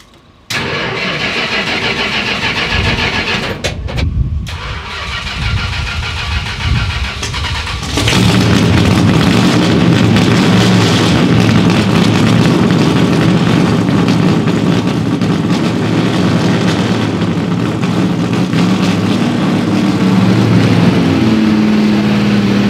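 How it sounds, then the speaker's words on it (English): A 1970 Plymouth Superbird V8 cranks over and catches, then settles into a loud, rough idle and revs in a deep rumble. It runs close and strong for about twenty seconds with no speech. "I'm gonna take it out and give it a little test drive"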